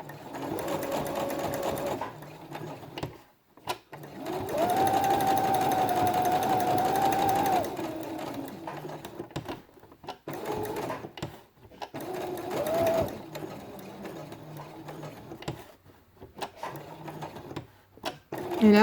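Sewing machine stitching seams on fabric for a quiet book, running in steady whirring bursts of a few seconds, loud and close, with pauses between runs and no talking.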